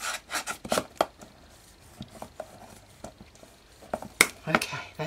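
Adhered material on an ATC box being burnished down by hand, a series of short, dry rubbing strokes in uneven bursts, close and fairly quiet, with pauses between passes.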